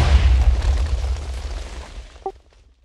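A loud booming blast from a video game shot hitting a sand wall, with a heavy low-end rumble that decays over about two seconds and a small blip at the tail, no voices.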